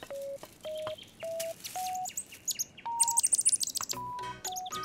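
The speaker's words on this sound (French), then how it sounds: "Pose le petit oiseau dans son nid, Trotro, et nous allons bien voir." Cartoon baby bird chirping in its nest, a series of short, high tweets rising step by step, then a quick fluttering trill and bright peeps, clear and close with no talking.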